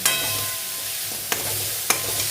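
Ghugni of yellow peas frying and being stirred in a pan, a steady close sizzle with two sharp scrape-clinks of the spoon against the metal.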